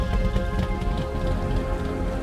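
Steady rain pours during a tropical storm at a racetrack, a dense continuous patter on surfaces, loud and close, with a low rumble underneath.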